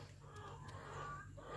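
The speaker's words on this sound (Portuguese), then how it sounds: "As galinhas estão aqui, ó." Chickens cluck softly inside a coop on a small farm, faint and somewhat distant, against a steady low background hum.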